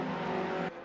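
Race cars in a racing video game drone past with a steady engine tone that cuts off abruptly, faint and brief, with no talk.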